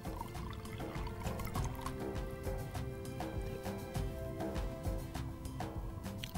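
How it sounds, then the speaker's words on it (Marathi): About one bowlful of water is poured into a saucepan in a home kitchen, making a quiet, continuous splashing trickle that lasts throughout without any talk. "सो सॉस पॅनमध्ये 1 वाटी साधारण मी पाणी घेणार आहे"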